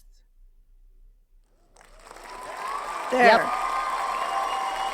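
Applause sound effect rises from near silence after a brief spoken word, swelling into a steady wash of clapping with a sharp burst around the middle, sustained to the end.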